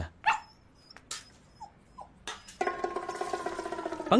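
A dog whimpers in short high whines and yips, then lets out a longer run of sustained whining cries, fairly close and with no one talking.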